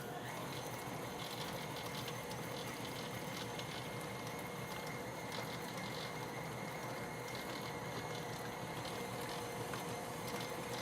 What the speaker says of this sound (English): put our mixer back down, lock it in place, and we're going to mix this together and form our mixture here